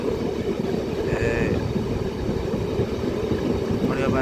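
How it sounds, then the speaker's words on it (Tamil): The Yarl Devi passenger train crawls very slowly over an eroded stretch of track, giving a continuous low rumble and rattle while someone talks over it. "ட்ரெயின் வந்து மிக மிக ஸ்லோவாக தான் போகுது."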